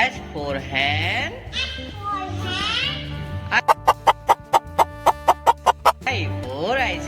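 A hen clucks in a fast, even run of about ten sharp, close clucks, with speech before and after.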